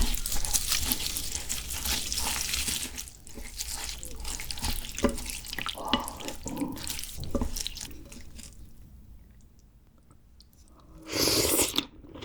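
Close, wet chewing of raw fish and mulhoe, a cold raw fish soup with shaved ice, somen noodles and rice, with slurps, soft bites and liquid sloshing in steady bursts, and a louder watery splash near the end.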